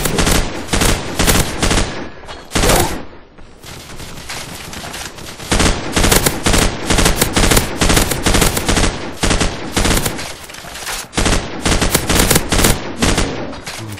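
Loud bursts of automatic gunfire from Call of Duty: Modern Warfare in a zombie mode, rapid volleys repeating in clusters with brief gaps, close and dominant throughout with no talking.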